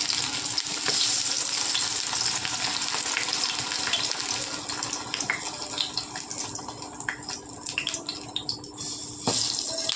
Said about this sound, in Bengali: এখন বেগুনটা ভাজবো। তেল গরম হয়ে গেছে